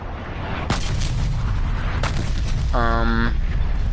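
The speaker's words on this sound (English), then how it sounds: "Artillery inbound." Artillery strike in Black Ops Cold War: sharp booming impacts land over steady rumbling noise, with a short electronic tone sounding near the end.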